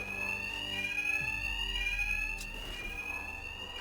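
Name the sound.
alarm ringing in Batman Arkham Knight video game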